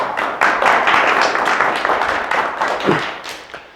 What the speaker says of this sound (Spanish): Tenemos un fuerte aplauso, por favor.